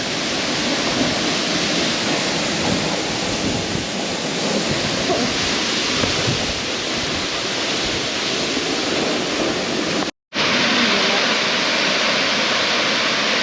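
Constant roaring rush of a waterfall in Spain with wind buffeting the microphone, loud and unbroken, with a momentary dropout near the end.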